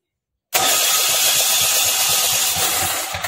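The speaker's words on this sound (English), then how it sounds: "We'll just see if this starter is going to engage the gear and make the flywheel rotate" Starter motor engaging the flywheel gear on an 18 HP diesel engine, a sudden loud onset followed by a steady cranking whir with a fast rhythmic chug underneath, close and alone.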